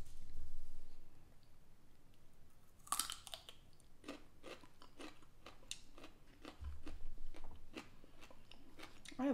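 Raw radish being bitten and chewed, a sharp crisp bite followed by a steady series of close, wet crunches, with no talking.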